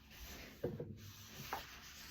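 Paper folded over by hand to make a journal pocket, giving a couple of soft, close rubbing crinkles against a quiet background.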